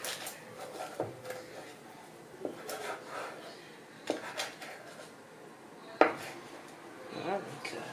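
A kitchen knife slicing through the center of a maki sushi roll, soft faint cutting and tapping on the board with a few sharper knocks, while a person talks quietly.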